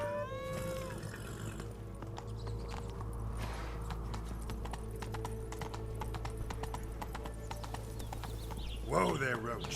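Hooves of Roach, Geralt's horse in The Witcher 3, clip-clopping in a steady trotting rhythm under game ambience, with a short vocal burst near the end.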